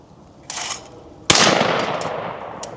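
A Franchi 48AL shotgun fires a single loud, close blast, preceded by a brief handling click and followed by a long fading echo.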